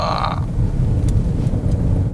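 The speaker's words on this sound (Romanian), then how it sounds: "Haideți să vedem cum se simte Peugeot 2008 și în viraje strânse" A Peugeot 2008 is driven through tight, almost serpentine bends, its low engine and road rumble droning steadily from inside the cabin, with a brief higher tone fading out early on.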